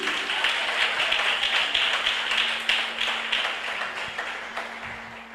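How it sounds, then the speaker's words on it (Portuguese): A church congregation claps during a deliverance service, producing a sustained, rhythmic wash of many hands clapping together, loud and steady with a low hum beneath. "Palmas para Jesus!"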